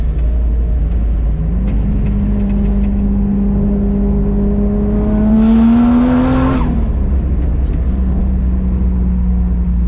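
A turbocharged Toyota Chaser accelerates hard through quick gear shifts, its engine note climbing steadily then peaking with a loud whooshing rush before dropping at the shift and settling into a steady drone.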